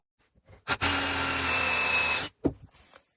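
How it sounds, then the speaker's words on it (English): A power drill bores a hole through a wooden stick in a workshop, one continuous whining burst of about a second and a half, close and loud, bracketed by brief handling clicks. "And in the middle, we're going to drill a hole."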